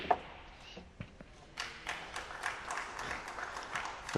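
Snooker crowd applauding Jimmy White's exhibition shot at the 2013 Wuxi Classic, scattered claps building into steady indoor applause over a few seconds.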